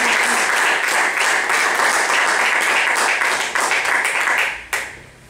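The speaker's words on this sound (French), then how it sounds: "On peut les applaudir." Audience applause at a role-playing tournament prize ceremony: dense, steady clapping from a crowd for about five seconds before it abruptly thins out and fades.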